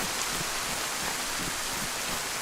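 Steady rain falling in the survival video game DayZ, a dense, even hiss of drops on surfaces that holds constant throughout with no voices.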